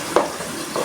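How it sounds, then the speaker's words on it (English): Spago being stirred in a cooking pot of broth: a brief close scrape and swish of a spoon through liquid, followed by a second softer stir. "I stir."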